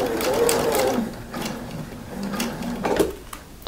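A sewing machine stitches a seam on a knit jumpsuit in short, uneven bursts, starting, slowing and speeding up again as it nears a notch.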